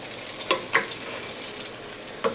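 Seasoning being stirred into food sizzling in a pan, a steady soft fry hiss with a few sharp utensil scrapes and taps against the pan, close by.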